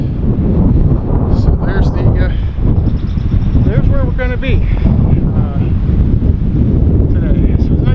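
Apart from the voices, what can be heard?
wind outdoors at a park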